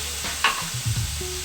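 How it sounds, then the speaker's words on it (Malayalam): A glass of water poured into a well-heated pan for a sweet ada snack, giving a short sudden hiss that settles into a low bubbling sizzle. "അതിലേക്ക് നമ്മൾ 1 ഗ്ലാസ് വെള്ളം ചേർക്കാം."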